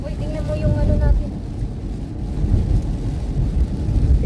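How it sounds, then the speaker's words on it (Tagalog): Heavy rain drums on a moving car, a loud dense low roar of road and rain noise throughout, with a person's voice briefly audible at the start. "lakas pa ng ulan"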